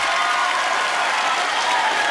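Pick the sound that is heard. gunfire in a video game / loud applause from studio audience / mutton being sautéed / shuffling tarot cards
loud applause from studio audience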